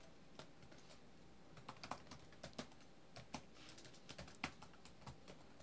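Keys clatter on a computer keyboard as a command is typed at a Windows PowerShell command line, a quiet run of uneven clicks and taps with short pauses and no voices.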